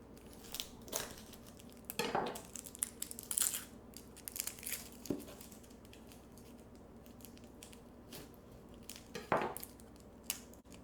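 A knife works through garlic on a cutting board in an irregular series of close, crisp chops and crunchy cuts with pauses between, with no talking.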